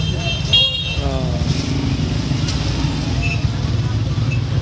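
A motorcycle rickshaw rumbles past on a busy road, low engine drone with horn toots and surrounding traffic noise, fairly close and steady.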